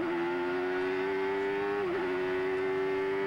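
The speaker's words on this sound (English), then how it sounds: "Now listen to the heavy braking here. Sometimes you hear the engine begin to stutter as the brakes grab those rear wheels." A CART race car brakes hard into a corner at Laguna Seca in 1991, its engine a loud steady drone that wavers and stutters briefly as the rear wheels grab, heard close and alone.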